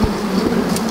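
A swarm of bees shaken off a branch into a box makes a loud, dense buzzing right up close, steady and unbroken, with no voices.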